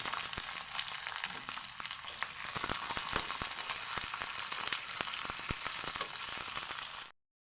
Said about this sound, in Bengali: পেঁয়াজ আর ক্যাপসিকাম দিয়ে দিচ্ছি